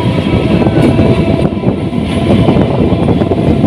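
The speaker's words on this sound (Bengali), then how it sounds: "যা দেখছি অ্যাভারেজের থেকে ভালো স্পিডে ছুটছে আমাদের ট্রেন" The Haldia Fast passenger train from Howrah to Tamluk runs at speed, with a loud, dense roar and rattle of carriages on the track, heard continuously from on board and with no talk.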